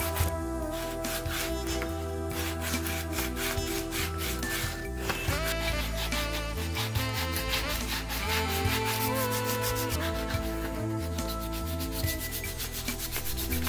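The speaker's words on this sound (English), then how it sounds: "Now I sand it to get a nice, smooth, comfortable feel to it." A wooden push stick for woodworking is sanded by hand in steady back-and-forth rubbing strokes, loud and close, with a continuous gritty scraping texture throughout.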